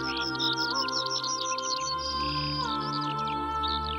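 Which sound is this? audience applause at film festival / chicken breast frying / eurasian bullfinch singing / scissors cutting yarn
eurasian bullfinch singing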